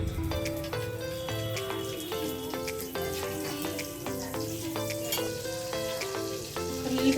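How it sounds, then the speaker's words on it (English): A little butter sizzles steadily in a hot pan as pav is readied for Mumbai street-style pav bhaji. The crackle stays constant throughout, with rhythmic melodic tones playing alongside. "Now into the pan, I will put just a little bit of butter."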